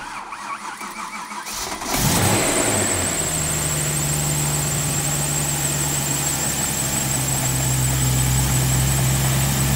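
A BMW M3 engine, unused for a month, cranks and catches after a couple of seconds, then settles into a steady, even idle that runs on unchanged.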